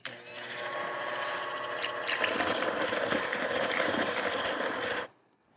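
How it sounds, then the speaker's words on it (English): An electric hand mixer beats eggs in a bowl for an oil-based cake, whirring steadily for about five seconds before it abruptly cuts off. "Get my hand mixer on."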